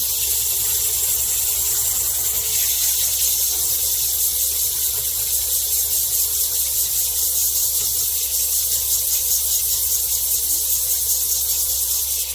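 Rough sapphire being ground on a lap, a steady, loud, continuous hiss and whir with no breaks or pauses throughout.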